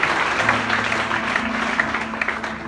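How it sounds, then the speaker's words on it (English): Steady clapping from a church congregation, continuous and fairly loud throughout with no talking. "Clap your hands together for Jesus tonight."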